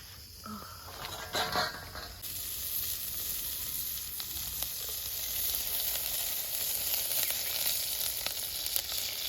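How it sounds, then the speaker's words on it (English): Onions frying in oil in a pot over an open village fire in Kenya give a steady, close sizzling hiss that thickens after a brief quieter start, with no voices. "After adding the onions and the oil, I'm just gonna wait for it to turn golden brown."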